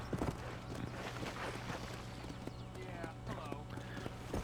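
Horse hooves clip-clop in a steady walking rhythm in the Red Dead video game, a quiet, even patter against a low background hum.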